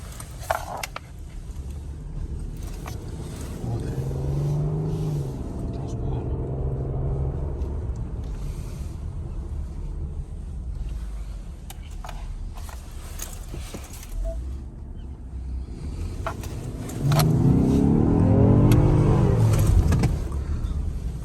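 A 2021 Ford Explorer police SUV pulls away with a low engine rumble that swells into a stronger, rising surge near the end, heard from nearby amid faint mechanical clicks.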